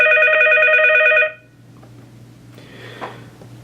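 An ESI ePhone4 desk phone plays its ringtone, a bright warbling electronic trill repeated quickly for about a second, then cuts off, leaving a low hum and a soft button click as the ringer volume is adjusted.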